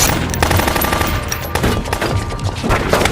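Rapid automatic gunfire fills a movie shootout with mafia gangsters, loud and dense bursts crackling continuously with no pause.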